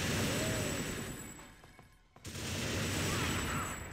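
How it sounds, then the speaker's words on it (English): Sustained gunfire aimed at the player in TimeSplitters, on the Docks mission at Hard difficulty. It is a dense, continuous rattle with a brief lull midway before the shooting resumes at full intensity. "something is trying to shoot me."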